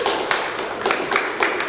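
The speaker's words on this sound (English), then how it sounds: "They're clapping for that?" An audience claps in scattered, uneven bursts, a crowd applauding at close range for a brief moment.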